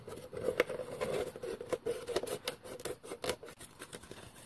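Scissors trimming the bottom off a plastic pop bottle, with quiet, close, uneven snipping and scraping cuts in a steady series, with no talk.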